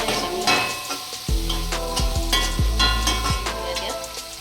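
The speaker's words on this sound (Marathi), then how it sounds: "हे बघा असं चांगलं फुल गॅसवर भाजून घ्यायचं आहे मी" Paneer pan-roasting over a full gas flame sizzles steadily and loudly, with repeated scraping stirs and pan knocks on top and no voices.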